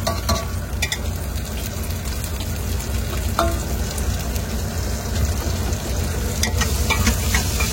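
Peeled tomato and whole garlic cloves sauté in a pan, giving a continuous close sizzle with stirring scrapes and a few sharp spatter clicks, no voices.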